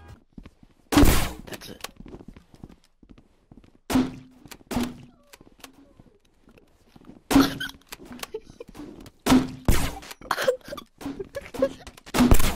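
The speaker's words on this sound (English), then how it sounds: "we got shot through the walls" Gunshots in the Rec Room video game come through the walls during hide and seek, as loud, heavy thumping bursts spaced irregularly across the clip, with brief spoken words between them.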